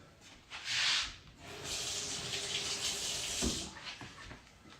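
Lukewarm water runs from a tap into a sink during face washing, a steady close hiss and splash with a brief louder gush at the start, no voices.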